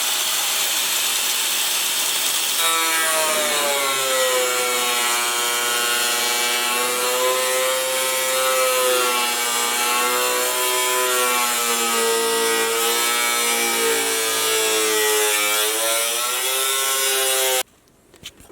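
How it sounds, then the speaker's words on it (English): A rising and falling power-tool whine cuts a 4-inch hole in a 1979 Jeep Cherokee Chief for air conditioning and heater hoses, running loud and continuous for about fifteen seconds and then stopping abruptly. "So I cut out like a 4-inch hole right here."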